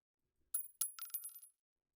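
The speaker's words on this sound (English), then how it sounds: "Then the echo of a shell casing rolling on the floor." A spent shell casing drops and rattles across a hard floor in a video game, a few light metallic clinks and bounces, faint and alone.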